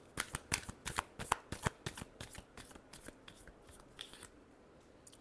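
Tarot cards riffle-shuffled by hand in a quick series of crisp, close flutters and snaps that tail off at the end, with no talking.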